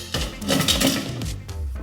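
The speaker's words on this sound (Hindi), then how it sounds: "So cube. 3 cubes," Ice cubes drop into a glass of whisky one after another, a few sharp clinks and knocks against the glass, close and fairly loud.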